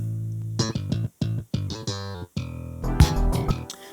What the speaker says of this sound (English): Our good old slap bass.